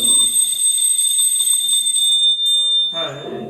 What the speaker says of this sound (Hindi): घंटी तो बजा ही सकता हूँ।